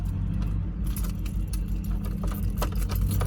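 Metal keys jangle and rattle in the ignition of a Ford Ranger, a quick run of bright clinks over a low steady vehicle rumble, close by, with no voices.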